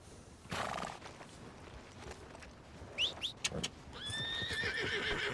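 A horse whinnies with a rising squeal, surrounded by clopping hooves and soft background bird calls, fairly quiet overall; from the video game Red Dead Redemption 2.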